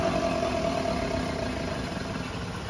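A car with a humming wheel hub bearing runs steadily, giving a continuous close drone with a faint whining tone that stays even throughout.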